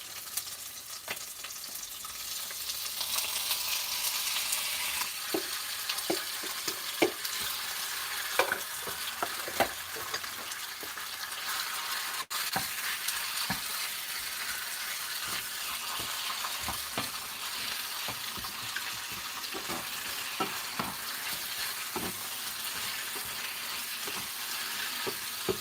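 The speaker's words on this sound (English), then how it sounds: "We will fry the meat for maybe 5 minutes." Meat frying with onions in a pan for a Filipino-style chicken garlic stir fry, a steady sizzle with scattered sharp crackles and stirring clicks throughout, fairly quiet and close.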